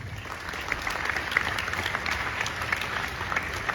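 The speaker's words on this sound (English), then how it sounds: "May I have a huge round of applause?" Steady applause from a school audience at the close of an inspiring talk at an academy, a dense wash of clapping held at even loudness throughout.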